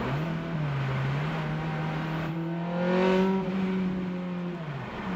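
2006 Ferrari F430 Spider engine pulling steadily through the gears, a sustained rising and falling tone with a swell of revs midway, heard from inside the car with no talk.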